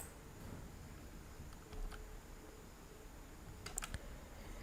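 A computer mouse clicks while navigating a PayPal account online, a few sharp, light clicks in small clusters over a steady low background hiss.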